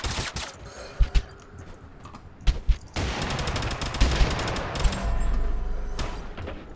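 Gunfire in the video game Totally Accurate Battlegrounds, several sharp close shots early followed by a dense burst of rapid automatic fire and a final rumbling blast, loud and continuous.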